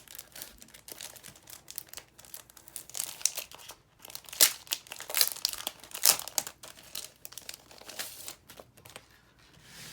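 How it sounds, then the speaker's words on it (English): A packet of Dollar Tree vacation-theme stickers crinkles and rustles as it is handled and opened for a planner, with sharp, irregular crackles close by and no talking. "So let's get our vacation stickers out from the Dollar Tree."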